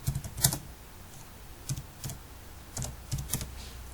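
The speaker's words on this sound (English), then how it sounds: "let me type all the query" Soft, quiet taps on a computer keyboard while a database query is entered, sparse clusters of light clicks with pauses between them and no talking.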